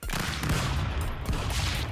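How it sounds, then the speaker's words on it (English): Shotgun blasts in the video game Stick Fight, a couple of heavy, booming shots with sharp onsets at the start and around the middle, followed by continuous loud game noise. "The shotgun has got oomph to it."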